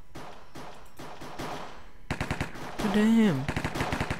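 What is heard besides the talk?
gunfire in Minecraft Cops and Crims video game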